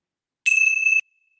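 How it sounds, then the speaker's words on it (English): A single bell struck once at the close of a meditation gives a bright, clear ring that lasts about half a second and then stops sharply. "let's close our time together with the ringing of the bell."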